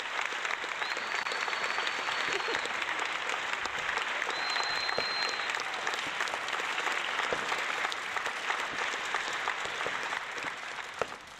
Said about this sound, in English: Let's give this guy another round of applause.